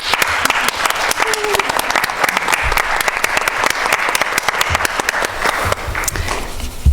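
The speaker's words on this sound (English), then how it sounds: "I just want to give a round of applause for all of you for being here and for all of our panelists" Loud, sustained applause fills a room at a panel discussion on art as a tool for change, dense overlapping claps from a sizeable audience that thin slightly near the end.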